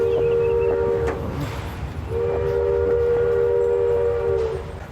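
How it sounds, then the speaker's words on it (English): Boat horns hoot across the water during a quiet waterside walk: two long, steady tonal blasts, the second starting about two seconds in and holding for several seconds, fairly loud over outdoor background noise. "apart from the boats hooting"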